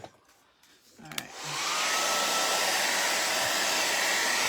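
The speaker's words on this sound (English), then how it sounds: "All right, so now we'll get the dryer." A few soft clicks and handling noises, then a hair dryer switches on and roars steadily at close range while drying paint on loose canvas, loud and continuous to the end.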